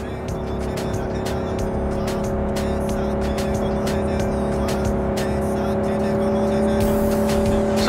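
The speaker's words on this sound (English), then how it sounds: "Drive, Jackie, just drive." A car cruising in the Cyberpunk 2077 video game gives a steady, loud engine hum with sustained tonal drone and road noise, continuous and close throughout.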